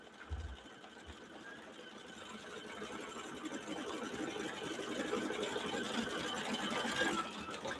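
A Mylar-appliqué wedding quilt block stitching out on an embroidery machine: steady, fast mechanical whirring and clicking that runs continuously and grows a little louder, close by, with no talk over it.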